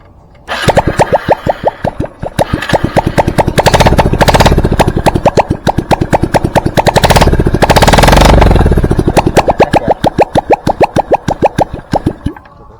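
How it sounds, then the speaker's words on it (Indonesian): A Honda Revo Absolute motorcycle, running without its exhaust after a new cylinder block set was fitted, starts and idles with loud, rapid popping beats that rise twice in quick revs, then settle back to a steady chug. "Kita hidupkan coba."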